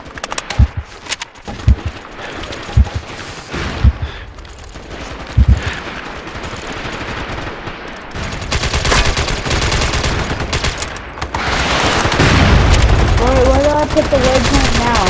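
Gunfire in the video game MAG: scattered sharp single shots early, then dense, loud sustained automatic fire and battle noise filling the rest, with voices talking over it.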